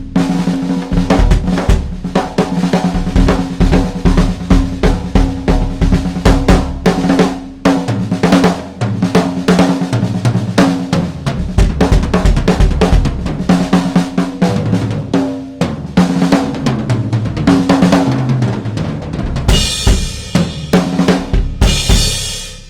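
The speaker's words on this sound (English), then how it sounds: "What a killer bass drum sound." A barely muffled bass drum with a hole in its head booms through a full drum kit groove, with steady kicks, snare hits and cymbals loud and close, ending in a crash wash.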